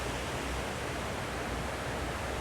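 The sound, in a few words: resort waterfall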